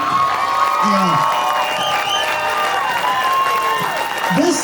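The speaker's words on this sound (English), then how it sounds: "Let's also have a quick round of applause" A crowd claps steadily throughout, with scattered cheers and whoops rising over the applause.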